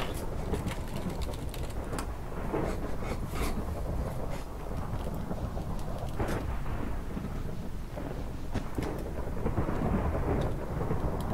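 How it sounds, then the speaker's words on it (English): A thunderstorm with rain over a village in the Minecraft video game: steady hissing rainfall with rolling thunder rumbles throughout, fairly loud and continuous, no voices. "there's a storm over the village"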